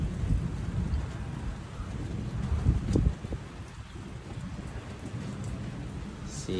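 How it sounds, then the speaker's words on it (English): Sudden summertime rain in Arizona falling on surfaces outdoors, a steady soft hiss with low rumbling gusts of wind, moderately loud and continuous. "suddenly it just rained."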